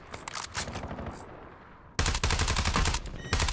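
Call of Duty Warzone gunfire comes in sustained loud automatic bursts, first quieter and scattered, then a dense close volley after a short lull, with a brief voiced callout mixed in.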